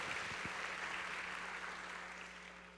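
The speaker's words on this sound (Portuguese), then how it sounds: "Aplauda o Senhor Jesus" A church congregation applauds during a sermon, a broad, even wash of clapping from a large room that holds steady and slowly fades, with a low hum underneath.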